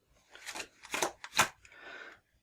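A deck of starting cards for the DC Deckbuilding Game being shuffled by hand, giving several quick riffling bursts close up, each a crisp papery flutter, with no talking.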